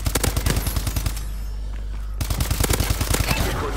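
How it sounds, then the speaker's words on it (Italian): Rapid gunfire in the shooter video game Call of Duty: Advanced Warfare, dense bursts of automatic shots in two stretches separated by a quieter gap, close and loud. "Chi è che spara?"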